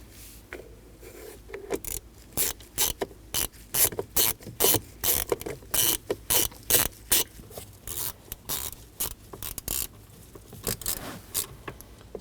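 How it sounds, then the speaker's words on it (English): Ratchet clicking as a T20 Torx screw is tightened on a 2014-2023 Ford Transit Connect steering column during ignition switch replacement, a close, steady run of sharp repeated clicks in bursts with brief pauses, no talking. "We'll do the same for our T20 Torx screw on the back."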